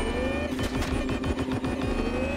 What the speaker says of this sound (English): every time I hit the throttle, you can hear a weird thump